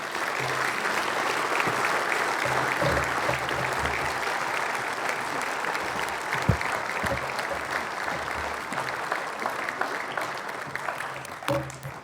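An audience applauds steadily at a 2018 talk as Professor Clive Hamilton is welcomed to the stage, a dense, sustained wash of clapping that holds for about twelve seconds with no voices over it.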